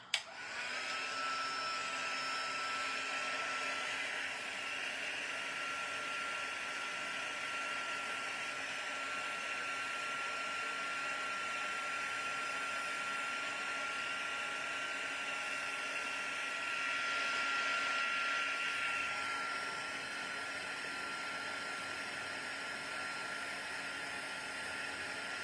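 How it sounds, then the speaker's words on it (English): Embossing heat gun blowing hot air over gingerbread man crafts, a steady close whooshing hum with a high tonal whine that runs unbroken for about twenty-five seconds after a click at switch-on. "we'll put the heat tool on again"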